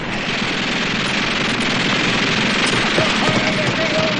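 Dense light machine gun fire in a wartime documentary, a continuous loud rattle of rapid shots that blurs into a harsh, unbroken roar with no pauses.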